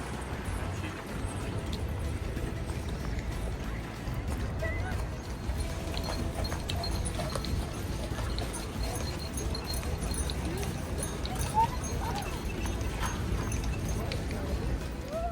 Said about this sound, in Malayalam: ഇതുവഴി കുതിരവണ്ടി സഫാരിയൊക്കെ ഉണ്ട്